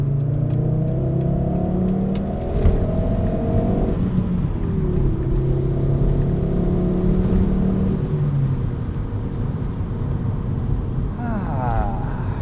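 A 1997 Volvo 850 R's five-cylinder engine with a five-speed manual pulls steadily from inside the cabin, rising in pitch and dropping back with gear changes, under a constant road rumble and some interior chatter.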